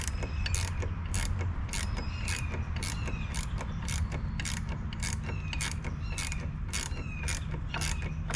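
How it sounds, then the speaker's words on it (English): An 11/16 wrench tightens a bolt inside a light mount on a Jeep Gladiator, a fast regular run of sharp ratcheting clicks over a low mechanical hum, close and continuous with no talk. "now I've set the bolt down inside of the mount, and I'll take my 11/16 wrench."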